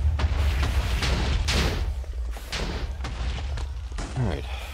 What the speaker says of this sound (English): The constant explosions really aren't helping either.